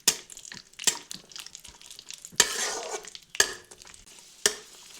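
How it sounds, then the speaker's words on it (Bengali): Cashews and raisins fry in ghee for a sweet Bengali basanti polao, with a spoon scraping and stirring the pan in sharp bursts over a soft, steady sizzle. Nobody speaks. "দিয়ে দিচ্ছি কিচমিচ, দিয়ে ওগুলো ভেজে নিচ্ছি"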